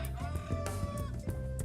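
Chickens and goats on a farm in Bohol, Philippines, make short bleating and clucking calls over a steady rural background, several brief calls close by, with no talk.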